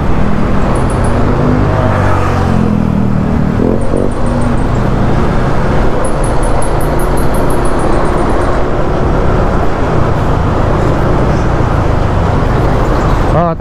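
Loud, steady road traffic noise with bus and car engines rumbling close by and a dense roadway roar throughout, with brief high beeps and some talk in the background.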